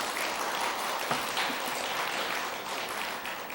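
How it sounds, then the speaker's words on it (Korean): Audience clapping during a Buddhist dharma talk at a temple Sunday family service, a steady broad wash of many hands sustained for several seconds, fairly distant and even, with no talking over it. "박수 치신다고 애쓰셔요."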